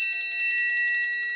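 A metal triangle rings in a rapid, even roll played louder, a bright sustained shimmer of quick repeated strikes heard close and alone.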